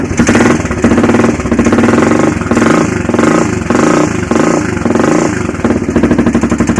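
A Honda 400EX ATV engine runs loud and close after a cold start, chugging in a steady rough idle with an even, pulsing thump throughout.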